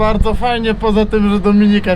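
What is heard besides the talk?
No everyday noise stands out behind the speech.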